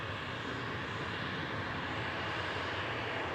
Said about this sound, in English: Got a Turkish A321 taxiing out for departure as well.